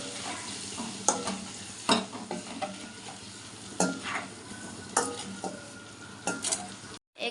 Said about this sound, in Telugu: ఎగ్స్ని ఇట్లా మంచిగా వేగించుకోవాలి.